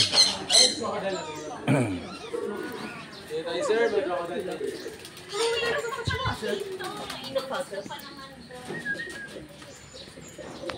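Pigeons at a butterfly sanctuary in Bohol, Philippines, cooing and squawking, with possible wing flaps, mixed under steady nearby conversation throughout.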